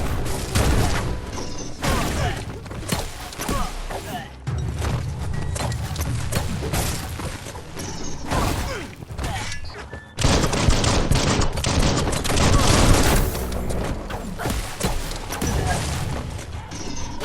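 Dense, continuous gunfire from the video game Biomutant, with rapid overlapping shots and heavy booms filling the scene loudly from start to finish.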